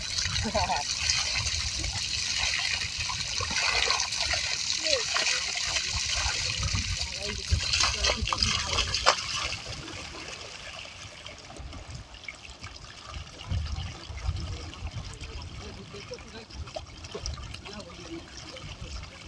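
Water from a shallow tube-well pump gushes and splashes during an outdoor bath in a village setting, a steady close rushing that eases partway through, with voices and brief splashes mixed in.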